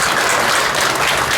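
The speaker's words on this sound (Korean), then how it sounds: "우리도 같이 박수로 영광을 드리겠습니다" A church congregation applauds during a Korean Sunday worship service in Jakarta, a dense, steady wash of clapping at full level throughout.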